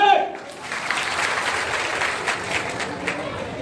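A large crowd at a tribal gathering claps to welcome a doctor, producing a broad, sustained wash of applause that holds steady after a brief voice at the start.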